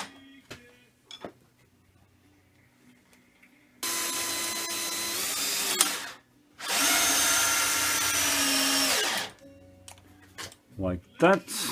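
A power drill drives screws in two long bursts of steady whirring, each a few seconds long and ramping as the screw seats, with quieter handling clicks and taps around them.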